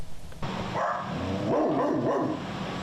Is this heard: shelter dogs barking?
yes